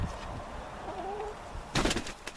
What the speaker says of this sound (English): Very gentle, very docile birds.